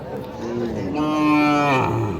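A bony, eight-toothed cow lows once, long and loud, at a rural cattle market in Dhamoirhat, Naogaon, rising in pitch and holding steady over faint background crowd noise.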